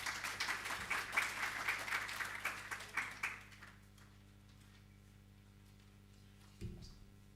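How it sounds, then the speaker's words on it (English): Audience applause at a government campaign launch, a burst of clapping at moderate volume that fades out after about three seconds, followed by near silence and a brief thump. "Please give him a round of applause"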